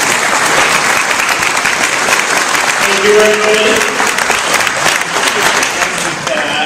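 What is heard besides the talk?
audience applause at candidate forum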